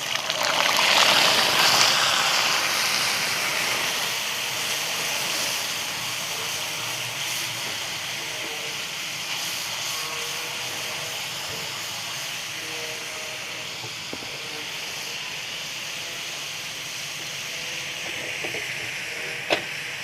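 Ginger garlic paste frying in hot oil for chicken jalfrezi: a loud broadband sizzling hiss that flares at the start, then settles into a steady, slightly softer crackle throughout.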